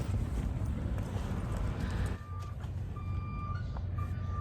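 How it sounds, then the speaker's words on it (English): A truck's backup beeper at a full-hookup RV campground with mountains behind sounds its steady, repeating tone through the second half, over a constant low rumble like a construction site or truck stop. "Just this backup beeper going the whole time."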